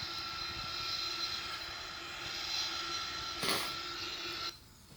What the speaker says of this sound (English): And here you can see the engine is running out,